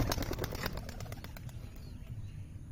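Pigeons burst into flight together on release in hot midday weather, a loud flurry of flapping wings at the start that thins out and fades over the following seconds, with no talking.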